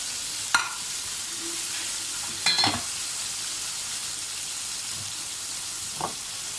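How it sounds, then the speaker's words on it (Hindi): Kebabs sizzle in butter in a pan, a steady hiss broken by a few sharp clinks and scrapes as they are turned, close by and with no speech. "तो मैं उलट पुलट करूँगी ताकि सब कबाब पे मक्खन लग जाए"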